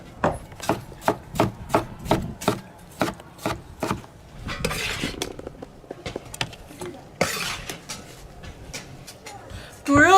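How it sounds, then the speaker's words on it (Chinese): A knife chops tomatoes on a board in a rural home kitchen. A quick run of sharp, evenly spaced strikes gives way to sparser, irregular chops and scraping. "把柿子剁碎"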